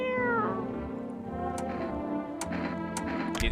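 A cat meows repeatedly in the video game No I'm Not A Human, the plaintive cries sitting over a droning music bed with a few faint ticks, no talking.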